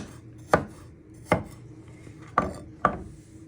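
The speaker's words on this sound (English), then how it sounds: "you're just finely chopping them into fine little pieces" Four sharp knife chops land on a board at uneven intervals, crisp and close, with a faint hum in the background.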